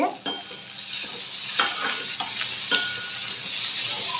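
Chopped tomatoes, garlic and ginger sauté in hot oil in a pan, a steady sizzle broken by several sharp scrapes and taps of a spoon as the mix is stirred, close and loud with no talk.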